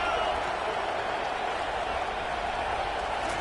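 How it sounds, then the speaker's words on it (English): Football stadium crowd roaring steadily late in the fourth quarter as fans urge the defense for a stop, a dense sustained wall of noise. "Listen to this crowd begging its defense to get a stop."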